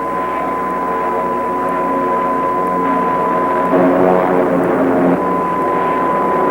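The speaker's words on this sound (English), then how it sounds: "The crazy pilot trying to wreck us, Mr. Lockwood." A propeller airplane flown in an old film drones steadily and loudly throughout, a constant engine hum with a faint high whine and no pauses.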